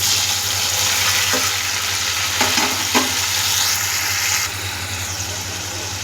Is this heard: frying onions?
yes